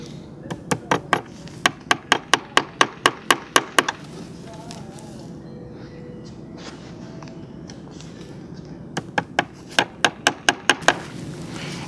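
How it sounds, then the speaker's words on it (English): A hammer taps carpet tacks into a furniture dust cover in two quick runs of about a dozen sharp, evenly spaced knocks, close and clear, with a quiet pause between. "You can go ahead and use these in place of staples and just tap them in with a hammer."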